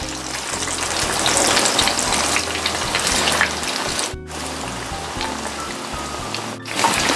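Tofu pieces frying in a pan of hot oil give off a steady, dense crackle and spatter, with two brief dropouts, and no one speaks.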